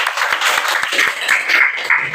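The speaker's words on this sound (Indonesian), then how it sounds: "tepuk tangan untuk kita semua" A class of sixth-grade schoolchildren claps together in a classroom, loud and close, with dense, slightly rhythmic applause running through the whole moment.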